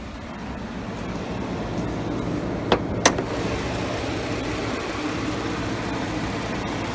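Steady low rumble of a twin-turbocharged, intercooled 3.5 liter EcoBoost V6 idling in a 2015 Ford F-150 Lariat, even and continuous, with two brief sharp clicks partway through and no talking.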